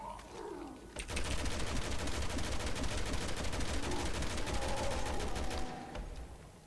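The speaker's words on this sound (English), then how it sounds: "Random epic explosions." Rapid bursts of explosions and gunfire in Resident Evil 6 crackle in a dense, continuous barrage for several seconds, then taper off.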